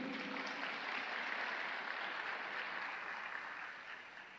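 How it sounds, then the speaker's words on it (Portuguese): A church congregation claps together in steady applause, fairly distant and soft, holding for several seconds and easing slightly toward the end, with no one speaking. "Um aplauso ao Henrique."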